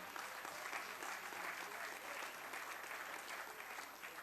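Parliament members applaud the Women's Football World Cup team during South African President Ramaphosa's 2019 reply to the SONA debate: a dense, steady wash of many hands clapping, sustained throughout.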